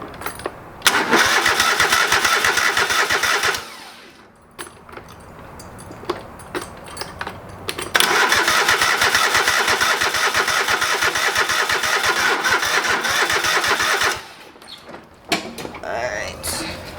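An old lawn mower with a rebuilt carburetor cranks and fires, running loudly up close for a few seconds, dying, then starting again and running steadily for several more seconds before cutting out.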